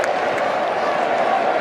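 A big cricket stadium crowd during a super over applauds and murmurs in a steady, dense wash of clapping and voices, heard from within the stands.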